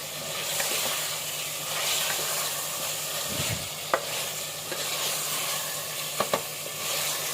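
Mutton with potatoes and garlic stirred in a hot pan, a steady close sizzle and hiss with occasional scrapes and a few clicks of the spoon against the pan.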